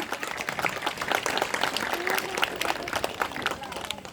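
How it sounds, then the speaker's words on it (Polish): An audience applauds warmly at the opening of a county children's song festival, giving a dense, continuous round of clapping with some voices mixed in underneath. "Gorące brawa."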